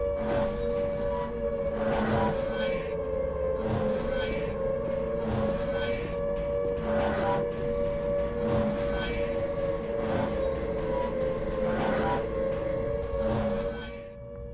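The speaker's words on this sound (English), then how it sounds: "a siren blares out" A siren blares through a wet room after the Pyramid Head fight in the Silent Hill 2 remake, a steady loud drone with pulsing swells repeating roughly every two seconds over rumbling ambience.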